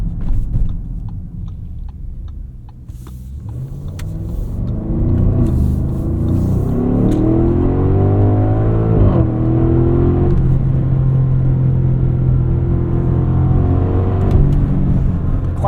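A 2024 Audi SQ8's V8 engine rumbles steadily from inside the cabin while driving, swelling into a louder, rising growl of acceleration midway and holding a strong, even drone to the end.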